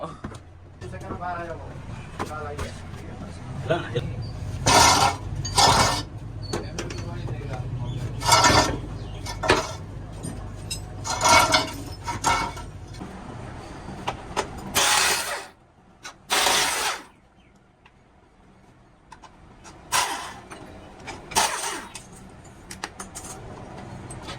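Repeated mechanical knocks and clunks come in irregular bursts from a car's steering assembly, with someone talking over and between them.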